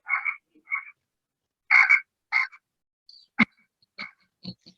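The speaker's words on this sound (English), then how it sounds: "We can hear that frog the best." A frog croaks outdoors in a series of short, separate calls spread out with pauses between them, fairly close and clear, with no talking over it.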